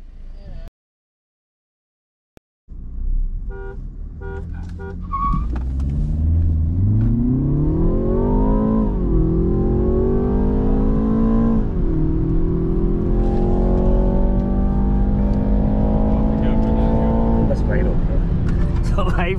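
Two cars, a BMW M330i and a petrol Mahindra XUV700, launch in a drag race, engines climbing loudly through rising revs with gear changes, a steady close roar lasting most of the run after a brief silence.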